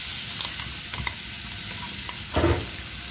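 Crushed shallots fry in hot oil with dried red chillies, a steady close sizzle broken by a few scraping stirs and one louder burst of spatula clatter near the end.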